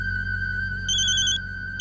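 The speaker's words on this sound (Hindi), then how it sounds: "डीएसपी सर का फोन आ रहा है।" A phone rings with an electronic ringtone for an incoming call, steady tonal beeps with a brighter overlaid melody midway, loud and close with no talk.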